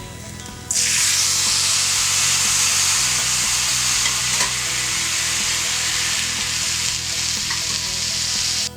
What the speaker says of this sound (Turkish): daha önce kaynattığımız şerbetimizi künefeye dökelim